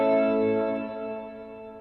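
An electric guitar chord ringing out through a reverb effect with the damping turned all the way down, a sustained, bright wash that slowly decays over a couple of seconds with no talking.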